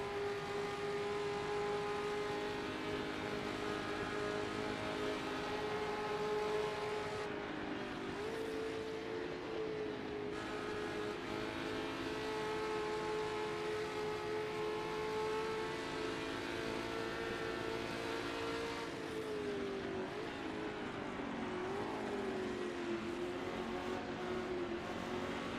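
Revving Alpine race car engine in Assetto Corsa historic endurance racing at Le Mans, a steady high-pitched drone held for long stretches, dipping briefly at gear shifts and lifts before climbing again, with no talk.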